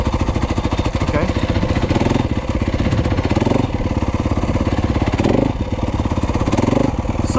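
A Yamaha YZ250F dirt bike engine revs hard while riding through woods, a loud, continuous buzzing four-stroke drone with a steady pulsing throb that rises and eases slightly through the ride.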